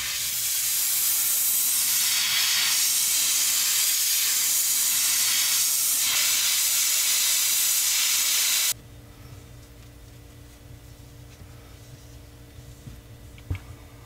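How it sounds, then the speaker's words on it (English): A steady aerosol can of black spray paint hisses loudly and continuously for several seconds onto a stickbait fishing lure, then cuts off abruptly, leaving quiet room tone with a faint click near the end. "So I'll just spray it with some black paint"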